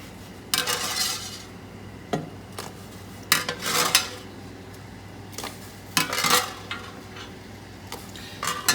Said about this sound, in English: I have my pot of boiling water here that's been seasoned with salt. I'm just going to add some gnocchi to it.